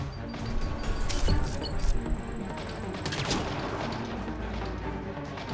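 Gunfire from a sniper and other weapons in the video game Mass Effect Andromeda, with sharp shots and impacts scattered over game music and ambience, moderately loud with a burst of denser fire near the middle.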